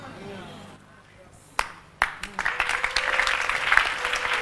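Church congregation at a sermon breaks into applause, starting with a few scattered claps and swelling into steady, dense clapping that fills the hall over several seconds.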